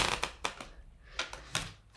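A D&D-themed tarot card deck being shuffled by hand gives a string of papery riffling bursts, close up and moderately loud, with short pauses between them and no talking.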